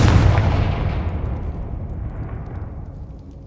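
A Confringo fire spell from Hogwarts Legacy explodes in a loud, booming blast that rolls out into a long rumbling decay, with no voices over it.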